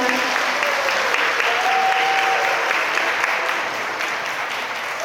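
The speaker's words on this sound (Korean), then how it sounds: "그럼 지금부터 신랑 김종훈 군과 신부 오 수빈 양의 예식을 여러분의 힘찬 박수로 시작하겠습니다." Guests at a wedding ceremony in a Gwangju wedding hall give loud, sustained applause. The dense clapping fills the room steadily for several seconds and eases slightly toward the end.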